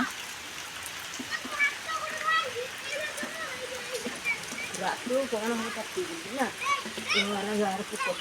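Rain falls in a village as a steady, even hiss of drops on surfaces, running beneath people talking and a voice throughout.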